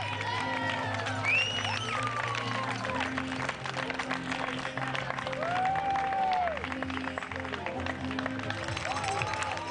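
A crowd applauds and cheers at the Ironman New Zealand 2015 finish line as a runner comes down the final stretch, a constant patter of clapping mixed with whoops, voices and music.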